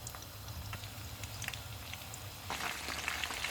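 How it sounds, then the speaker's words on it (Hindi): Chicken lollipop pieces frying in hot oil over medium heat, a steady soft crackle and sizzle that swells into louder, busier spitting as more pieces go in, close by with no talking. "इनको हम मीडियम आंच पे फ्राई करेंगे।"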